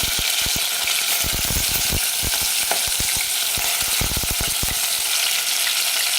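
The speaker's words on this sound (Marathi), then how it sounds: "तेल गरम झालं की लगेच आपण ह्या तेलामध्ये मटण टाकून घेऊ." Mutton drops into very hot oil, raising a loud, continuous sizzle dotted with sharp crackling pops and spits, close up and with no talking.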